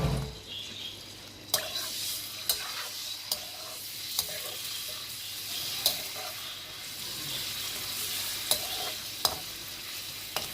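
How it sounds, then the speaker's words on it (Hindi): Chicken frying in oil in a karahi with a steady sizzle and crackle, punctuated by occasional sharp clicks and pops from stirring, close up. "सबसे पहले हम जो है इसमें चिकन फ्राई करेंगे।"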